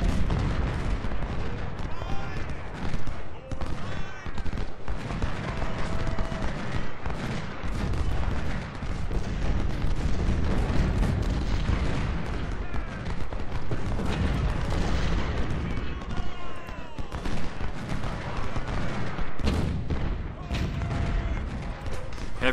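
Artillery batteries firing in the Civil War strategy game Ultimate General: Civil War during the Cedar Mountain battle, a continuous dense rumble of cannon booms and musketry filling the whole stretch under busy battle noise.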